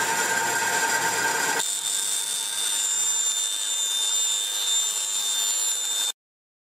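A bandsaw cutting wood into thin strips for guitar body binding, a steady high whine with the blade load dropping early on, running continuously before cutting off abruptly.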